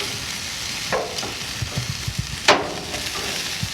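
Sausages grilling over an outdoor barbecue give a steady broad sizzle, with a few sharper pops and crackles standing out, at moderate loudness close by.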